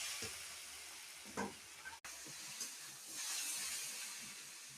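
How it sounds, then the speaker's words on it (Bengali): Boiled mutton stir-fried in very little oil for a Sunday goat curry, giving a steady soft sizzle with a few stirring scrapes and a brief gap partway through. "মাটনটা দিয়ে ভালো করে কষানো হচ্ছে, আর খুব কম তেল দিয়ে রান্না হচ্ছে।"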